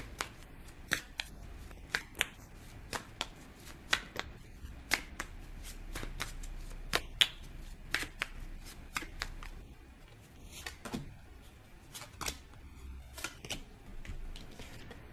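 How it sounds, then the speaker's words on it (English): A deck of tarot cards is shuffled by hand, with quick crisp riffles and sharp flicks and taps repeating unevenly across a quiet room. "Let's get some more cards."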